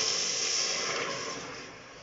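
Water poured into a hot pan on medium-high heat before steaming broccoli gives a steady, close steam hiss that slowly fades over about two seconds.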